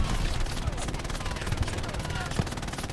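Dense gunfire and battle noise in Hell Let Loose, a competitive 49v49 match on the El Alamein map, with rapid machine gun bursts, scattered shots and booms running continuously under a player's excited commentary.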